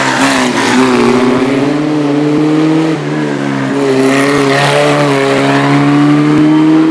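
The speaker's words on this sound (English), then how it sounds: "Formula Ford Crossflow engine," A Formula Ford single-seater with a restricted-horsepower Crossflow Kent engine races up the Shelsley Walsh hillclimb, its engine loud and close, pitch climbing through gears with a brief shift dip mid-run.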